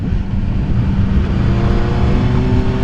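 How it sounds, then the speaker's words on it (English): A 2018 Suzuki GSX-S750 motorcycle engine while downshifting a couple of gears during a ride: a loud, continuous, close engine drone with wind rush and a slowly shifting pitch, with no talking. "Let's bring it down a couple gears."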